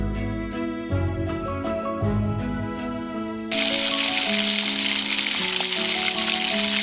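Raw prawns hit hot oil with chili, and a bright sizzle suddenly bursts up and continues steadily, with music playing underneath.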